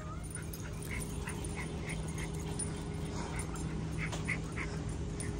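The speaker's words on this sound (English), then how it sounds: "Got me out here walking an untrained dog." An untrained dog whimpers during a walk, giving a series of short, high, nasal whines and yips at a steady pace over a constant low outdoor hum.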